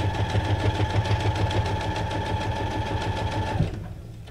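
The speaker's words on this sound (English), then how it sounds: "Brother sewing machine, better known as the Whippersnapper." A Brother SQ9185 sewing machine stitching at a steady fast pace, its needle clattering in an even mechanical rhythm with a motor hum close by, then stopping abruptly near the end.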